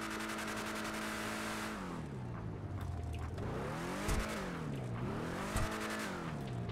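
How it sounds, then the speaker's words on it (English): A Batmobile engine in GTA Online revs hard in repeated sweeps, its pitch diving and climbing again, loud and close with a continuous growl and pops between the rises. "I'll rev the engine for you guys here"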